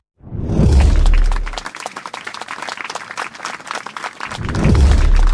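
A school group of dancers applauds after learning their first dance, a dense burst of many hands clapping that starts abruptly, dips slightly in the middle, then swells loud again before the end.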